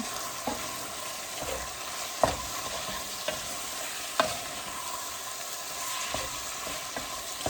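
Chili being stirred in a pot after garlic powder, sugar, salt and pepper go in, with a spoon scraping at an irregular pace over a constant sizzle, close by and without talk.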